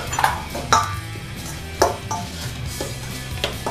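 A utensil stirring Chinese 5-spice into pork in a pan, with repeated scraping clinks and taps of metal against the pan at an uneven rhythm over a low background hum.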